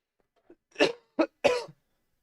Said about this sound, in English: And I still got this cough.